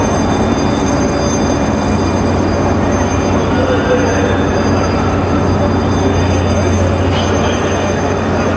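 A Panama Canal towing locomotive rumbles alongside the lock, a loud, continuous heavy mechanical drone with a low steady hum and faint higher whine that holds without letting up.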